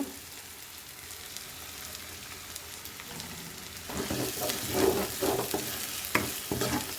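Tomatoes with a little coriander frying in a pan for biryani: a low simmering hiss at first, then louder sizzling and repeated spatula scrapes from about halfway through, all close by and with no speech.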